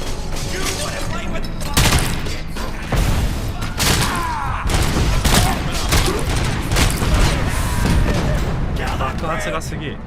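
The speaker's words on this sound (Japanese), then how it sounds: "爆発がすげえ。" Repeated explosions and grenade blasts in a gang shootout inside a building in Robocop: Rogue City, booming loudly and densely one after another, with gunfire-like crackle throughout and no break.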